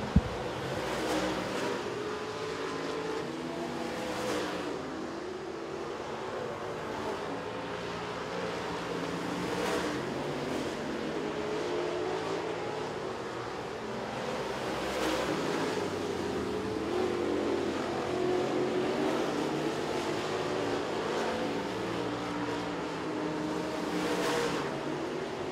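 Super stock race cars roar around the Tazewell Speedway oval in a feature race, engines droning continuously with surging passes every few seconds as the pack circles, loud and sustained with no talk.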